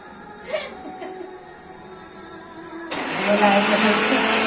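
A kitchen mixer grinder starts up abruptly and runs loud and steady with a broad whirring roar, following a quieter stretch with faint background music, in a home kitchen where chicken gravy with black masala is being prepared.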